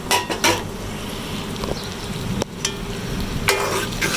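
Meat and boiled chana dal being stirred together in a cooking pot, a steady frying sizzle with scraping utensil strokes against the metal, close and moderately loud, no voices.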